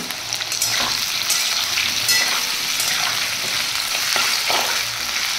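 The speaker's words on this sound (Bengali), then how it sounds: "এখানে আমি আলুটা এরকম ডুমো ডুমো করে কেটে নিয়ে লাল করে একটু ভেজে নেবো" Potato cubes frying in hot oil, a loud, dense, unbroken sizzle close up with occasional stirring knocks and scrapes, no speech.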